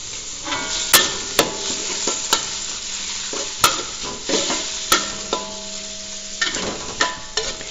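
Shrimp and chicken sizzle in a pan with pesto sauce for fettuccine, while a utensil stirs and scrapes, giving sharp metallic knocks at irregular intervals over a steady frying hiss. No one speaks.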